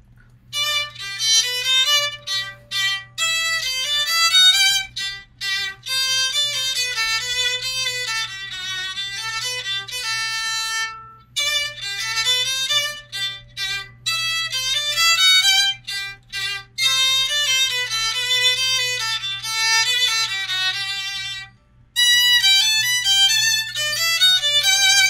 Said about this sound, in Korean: 이 바이올린으로 하니까 이제 연주를 한번 좀 해볼게요.